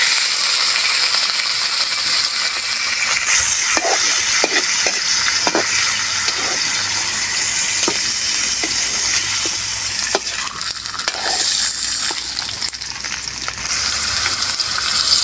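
Pork hock sizzles loudly in hot oil, a constant crackling hiss with occasional clinks of a utensil stirring the pan.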